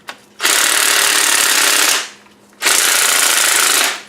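Impact wrench hammering on a GMC Acadia engine in a home garage, two loud sustained bursts of about one and a half seconds each, separated by a short pause.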